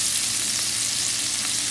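Sausages sizzling steadily in a hot pan while being stirred, a dense close frying hiss that stays constant throughout with no talking.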